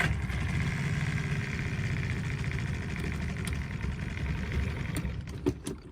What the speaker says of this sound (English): If we can get the motor to run.